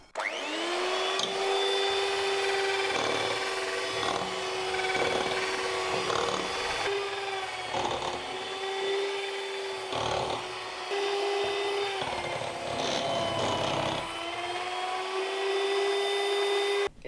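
A machine grinding tamale masa made with oil, giving a loud continuous motor whine with a steady pitch that dips and surges in several short breaks as the load changes.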